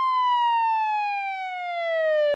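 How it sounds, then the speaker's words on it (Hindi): A police car siren wails in one long, smoothly falling tone, loud and clear, then cuts off abruptly. "उसी समय दूर से पुलिस की गाड़ी का सायरन सुनाई दिया।"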